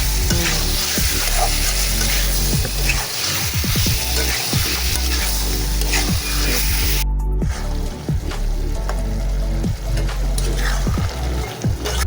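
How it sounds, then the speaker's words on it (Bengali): Potatoes with chili powder and salt sizzle steadily in a pan for a thin rohu fish curry, with repeated scraping stir strokes and a brief dropout partway through. "এরপর পর্যায়ে দিয়ে দিব আলু, সুন্দর করে কষিয়ে"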